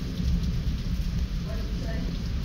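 A thunderstorm from a squall line with plenty of lightning, May 2024: steady close rain hiss over a low, continuous rumble of thunder throughout the short stretch.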